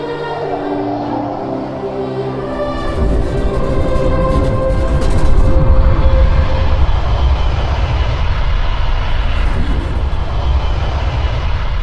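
A spacecraft or aircraft making an emergency landing in a video game, with a loud continuous engine roar and rumble that swells and grows harsher midway, alarm-like tones layered over it.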